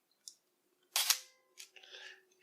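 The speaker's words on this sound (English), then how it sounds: "It has like a sort of a ratchety sound to it, even though it's just the leaf shutter." A Konica C35 AF2 compact camera's shutter button pressed down fully, giving a sharp leaf-shutter click followed by short ratchety whirring bursts from the autofocus mechanism, close and quiet with no talking.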